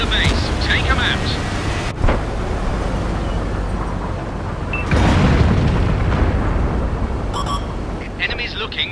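A tank cannon fires in the video game World of Tanks, giving a sharp crack followed later by a heavy low boom, with game rumble and chatter throughout.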